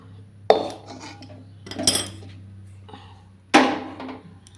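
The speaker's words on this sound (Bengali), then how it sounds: "এবার আমি এই কড়াটা নামিয়ে নেব" A metal karai used to fry brinjal, green banana and potato is lifted off the stove, giving three sharp metallic clanks and thuds spaced a second or more apart, close by, with no talk.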